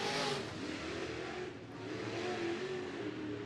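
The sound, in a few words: race cars in heat race at Bakersfield Speedway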